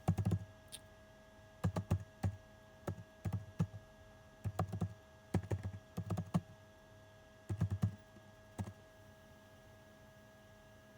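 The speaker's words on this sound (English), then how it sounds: "I'm just typing in Info Marketing Daily Insights." Bursts of typing on a computer keyboard, quick clusters of clicks separated by short pauses, close and fairly quiet over a faint steady hum, with no talking.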